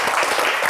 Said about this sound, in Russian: Максим, мои аплодисменты и аплодисменты студии.